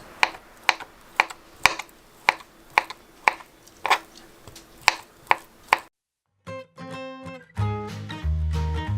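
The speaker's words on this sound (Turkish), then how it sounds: "patatesleri uzunlamasına keserek yarım ay şeklinde doğruyoruz" About a dozen sharp, evenly spaced knife chops on a cutting board as potatoes are sliced lengthwise into half-moons, then a brief silence and soft music entering.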